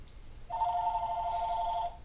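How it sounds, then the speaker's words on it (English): A telephone rings with a steady electronic tone that starts partway in and holds for well over a second, close and clear with no talk. "make that 4 because the phone's ringing."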